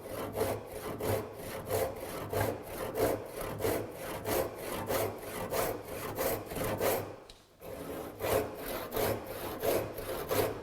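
A fairly coarse rip saw of 5.5 teeth per inch cuts along wood stock in steady rhythmic strokes, each push a rasping scrape, with a short pause midway before the sawing resumes.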